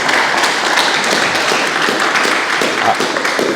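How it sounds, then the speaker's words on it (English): Audience applause at a talk event on continuous improvement, a dense, sustained clapping from a full room lasting several seconds, loud and steady throughout. "So round of applause for those, please."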